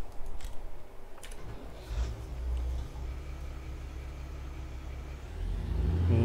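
A tractor engine in Farming Simulator 19 on the North Frisian March map drones steadily at low pitch, rising slightly toward the end, with no talk over it.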